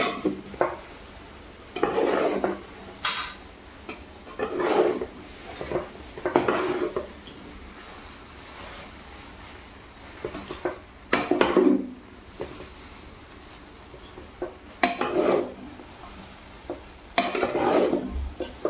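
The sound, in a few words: stirring kande pohe in a pan on the gas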